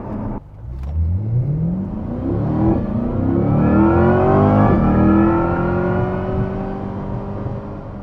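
A sports car launches hard with the throttle held to the floor: the engine note climbs steadily through a long, loud rising whir and roar, then eases slightly at the end, with no talking.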